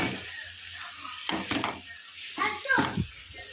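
Potato (bangaladumpa) curry stirred with a ladle in a hot pan, giving a continuous sizzle with a few scraping, shuffling strokes, while a voice speaks faintly underneath.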